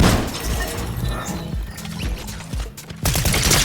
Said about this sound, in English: Just shooting the ground?